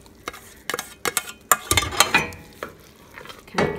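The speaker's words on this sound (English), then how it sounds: "Kind of give that a stir." A spoon stirs mushrooms and peas into rice in a pot, giving a run of soft scraping and clinking strokes with quiet gaps, close and moderately loud, no one talking.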